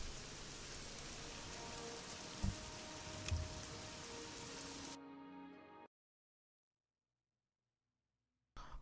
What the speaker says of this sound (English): I'm not so sure that the weather needs to be raining either, but we'll see. It's raining anyway.